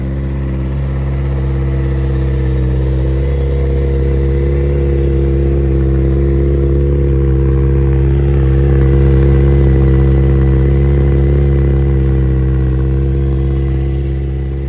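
A 2019 Kawasaki Z900RS Cafe motorcycle engine idling loudly when cold, a steady, deep, close rumble held for the whole stretch with no talking.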